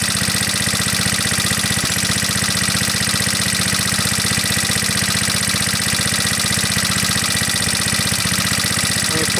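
An antique Onan PE-88 Signal Corps power unit, a small 350-watt generator set, runs with a steady, close, unbroken engine drone and no talking.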